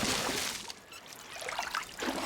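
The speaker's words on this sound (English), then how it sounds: "I, for example, need to keep refilling my water wheel or I'll power down forever." Water pours and trickles to refill a robot's water wheel, a soft, splashy stream that dips briefly and then returns.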